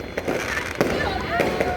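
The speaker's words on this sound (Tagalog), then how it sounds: "Fireworks." New Year fireworks burst in a few sharp pops and crackles over a dense, noisy crowd backdrop, with people talking and shouting nearby.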